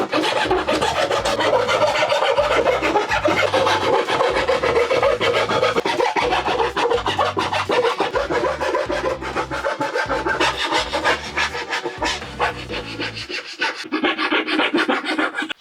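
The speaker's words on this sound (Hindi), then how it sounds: "इसको इसे घिस के इक्वल करना पड़ेगा और जो ये शार्प एजेस है इनको बिल्कुल क्लीन करना पड़ेगा" Steady back-and-forth rasping as the sharp edges of 18 mm plywood are rubbed down and smoothed for a camper van floor, a dense continuous scraping rhythm close up and loud with no talking.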